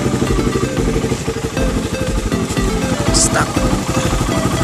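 A Raider 150 motorcycle engine runs close and loud at a steady idle during an RPM adjustment, its even putter continuing throughout with a faint click near the end.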